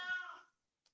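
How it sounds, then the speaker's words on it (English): A house cat gives one short, close meow, followed by a tiny faint click and then silence. "Do you hear my cat, by the way?"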